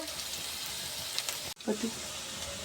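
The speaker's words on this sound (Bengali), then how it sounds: "পেঁয়াজ কুচিটা লাল লাল করে ভাজা হয়ে আসবে" Chopped onions fry in a pan with a soft, steady sizzle, quiet and continuous, broken by a brief stir.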